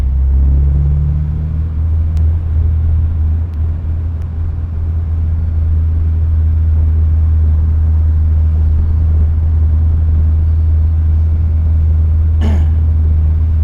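An Acura RSX fitted with an aftermarket exhaust drives along at a steady cruise, producing a constant deep droning rumble, close and fairly loud, with a brief faint click near the end and no voices.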